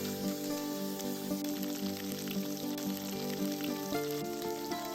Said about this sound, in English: Fry the tofu until golden brown on 4 sides.